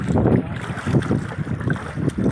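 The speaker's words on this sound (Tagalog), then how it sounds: "pero sobrang lakas ng hangin" Strong wind buffets the microphone in heavy, rumbling gusts at the seashore in Dampalit at sunset, with rushing high-tide seawater underneath.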